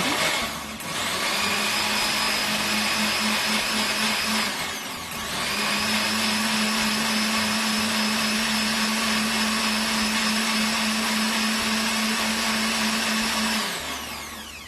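An electric blender grinds peeled tomatoes into puree with a loud, steady whirring motor, briefly pausing and restarting after about five seconds, then running on evenly before spinning down at the end.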